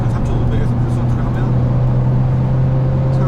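A Hyundai Avante N with a manual gearbox, downshifting from sixth gear at high speed, gives a loud, steady engine drone heard from inside the cabin, with road noise and a voice talking over it.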